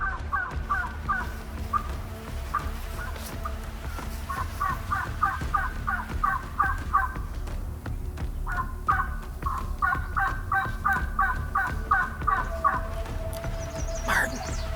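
Repeated bursts of rapid, rattling gobbles from wild turkeys in New Brunswick, several birds calling in quick volleys over a steady outdoor background.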